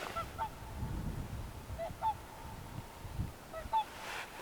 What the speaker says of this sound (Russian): Лебедь.